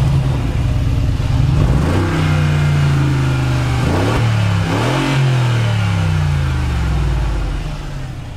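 Mercedes G-Wagon engine revving hard through its exhaust, loud and close, with several rising and falling rev sweeps over a steady idle rumble, no talk.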